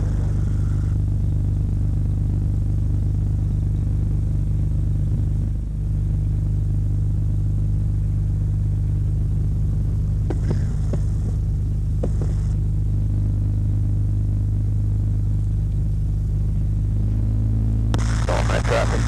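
Steady, droning cabin hum of a Super Stinson 108-1 airplane with a Franklin 220 engine, constant low drone throughout with brief radio crackles and a pilot voice over it.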